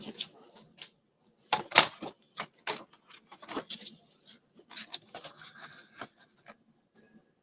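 Paper being cut to about 4 1/4 by 3 3/4 inches, heard as a run of crisp, close slicing and rustling strokes in uneven bursts, with scattered handling taps and no talk.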